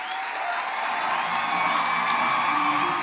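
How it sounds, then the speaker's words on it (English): An audience at a university autumn graduation ceremony applauds and cheers the Law and Health Sciences graduates, a sustained wash of clapping with scattered whoops throughout. "Let's give these graduates a very, very solid round of applause"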